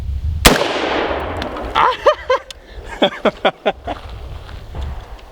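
A gun is fired with a hand held over it: one sharp, loud blast near the start with a long decaying roar, followed by a few quick voiced gasps and grunts of pain.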